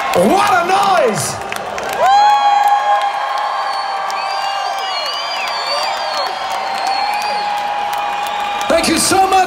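A huge concert crowd at Comerica Park in Detroit roars, cheers and whoops for a rock band, loud and sustained, with a voice speaking over the noise at the start and end.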